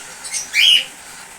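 A single short, bright chirp comes from a baby cockatiel chick, close and clear over quiet background.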